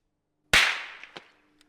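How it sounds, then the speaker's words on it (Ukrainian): A single sharp, loud suppressed pistol shot cracks out after a brief silence, followed by a short decaying tail and a couple of faint metallic clicks. "Перший постріл."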